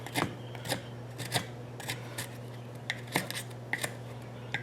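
A cheap dollar-store knife shaves tinder curls from fairly hard wood, with a series of quiet, scratchy rasping strokes at an uneven pace, close by and without speech.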